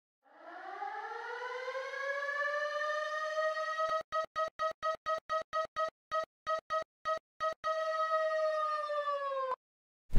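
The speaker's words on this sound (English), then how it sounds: "Then I added this alarm sound to make it more interesting." A loud wailing alarm siren sound effect in a bass house music track rises and holds steady, then chops into a rapid stuttering pulse before resuming its continuous tone and cutting off abruptly.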